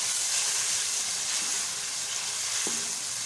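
Green chillies frying in hot oil give a steady, close, crackling sizzle that holds at an even loudness throughout, with a faint stir or clink near the end and no voices.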